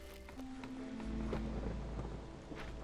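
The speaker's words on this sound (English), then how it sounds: "Oh, now the storm hit." A rainstorm sets in within the city-builder game Against The Storm, with a low rumble of thunder swelling beneath a steady wash of falling rain, fairly quiet and without talk.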